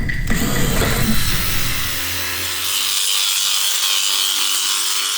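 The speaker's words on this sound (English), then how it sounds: "I had to drill it open." Loud power drill grinds and whines continuously against a metal motorcycle fuel tank, pitch shifting as the bit bites and then runs on with a high, harsh rasp.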